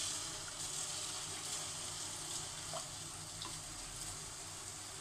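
Sesame chegodi dough fries in hot oil with a faint, continuous bubbling hiss, even and unbroken throughout the clip.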